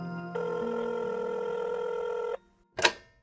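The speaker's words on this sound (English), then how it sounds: "He waits a bit for the phone call to connect." A phone rings while a call connects, a sustained electronic tone holding for about two seconds. It stops, and after a short pause a brief sharp burst follows.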